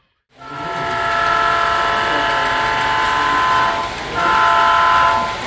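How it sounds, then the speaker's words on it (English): Model Southern Pacific grain train of 66 cars running on a layout, a loud steady rolling drone with tonal horn-like hum, briefly dipping then swelling again, no talk. "This is a 66 car Southern Pacific grain train."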